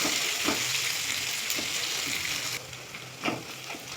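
Two large ripe tomatoes stirred into a hot pan for a hotel-style chicken curry, with a steady close sizzle and hiss broken by a few soft scraping stirs.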